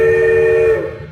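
Kato light steam sound card for a model train sounds a steady electronic horn, one loud sustained blast that tapers off at the end.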